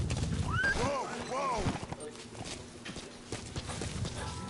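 Horse hooves clip-clop in a Metal Gear video game, a quick run of light hoofbeats that is fairly faint and sits under a voice speaking over the gameplay.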